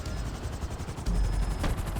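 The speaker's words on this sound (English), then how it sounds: "there's a couple of helicopters coming in. I think they're buzzards." Buzzard attack helicopters approach in a video game, a steady rotor chop and rumble that swells slightly partway through, mixed with mechanical clatter and no voices.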